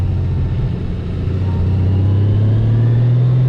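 A truck on a rain-wet road runs as a loud, steady low rumble that builds slightly as it draws near and passes.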